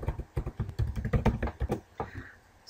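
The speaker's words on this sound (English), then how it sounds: "at both ends you're going to type center" Someone types a short burst on a computer keyboard, keystrokes clattering in a quick irregular rhythm that pauses briefly near the end; the clicks are close and moderately loud.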